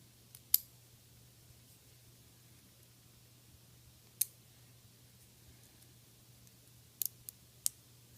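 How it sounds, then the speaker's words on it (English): Tiny screws and a light shield come off an N scale Atlas CSX SD35 locomotive, producing a few sharp, isolated clicks and ticks spread across an otherwise quiet stretch, with a cluster of clicks near the end. "I'm just going to pop the screws out and the light shield."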